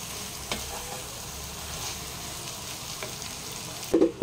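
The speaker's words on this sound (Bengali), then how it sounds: "2 মিনিট ভাজা ভাজা করে নেব।" Ridge gourd and potato with poppy seed fry in a pan, a steady close sizzle with light stirring scrapes, ending in a couple of louder clanks.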